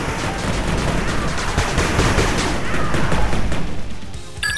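A machine gun turret comes under attack in the retro-styled strategy game 8-Bit Armies, with loud, dense fusillades of rapid gunfire and blasts running steadily throughout and a brief electronic blip at the end.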